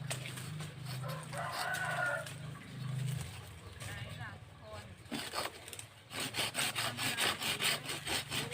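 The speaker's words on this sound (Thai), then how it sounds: "ตัดอันนี้ค่ะตัดกิ่งไม้อยู่ค่ะ" Rhythmic back-and-forth rasping of a hand saw cutting through tree branches, with a rooster crowing and someone talking nearby in a garden.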